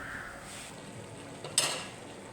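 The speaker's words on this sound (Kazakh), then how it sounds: "Бетін жауып қоямыз." A lid set onto a frying pan of beets cooking for a winter salad, a single quiet metallic clink over a soft, steady frying hiss.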